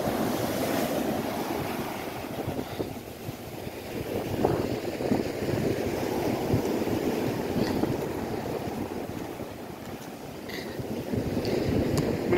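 Steady surf rolls and washes continuously on Gorleston beach, with wind buffeting the microphone throughout; no voices.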